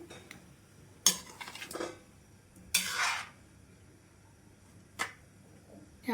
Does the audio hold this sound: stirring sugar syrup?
yes